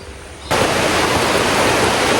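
Rain starts abruptly after a quiet moment, jumping to a loud, dense hiss of downpour near a village church path and banana trees, continuing steadily with no voices.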